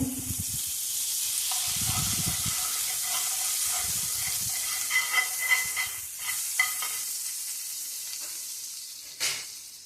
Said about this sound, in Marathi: दोन्ही बाजूने शेकून घेऊ